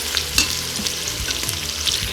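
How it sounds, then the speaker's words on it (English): Bacon sizzling on saute mode in an Instant Pot for baked potato soup, a continuous close crackle and spatter with occasional light scrapes and taps from a utensil, no one speaking. "This bacon is on saute mode, everyone."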